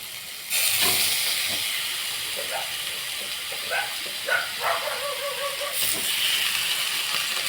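Chicken pieces drop into ginger-garlic paste frying in a pan for a Tamil chicken kulambu, setting off a loud steady hiss that swells at the start and again near the end, with spoon scrapes and a voice talking over it.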